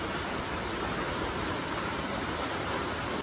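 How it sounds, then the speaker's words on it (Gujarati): Rain falls steadily at a hill temple of Parshuram Mahadev in Rajasthan, an even, dense rushing hiss with no breaks, moderately loud and with no voices. "અત્યારે બહુ મસ્ત વરસાદ પડી રહ્યો છે"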